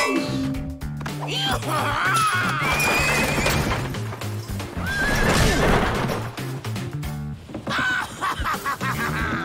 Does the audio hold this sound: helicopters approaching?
no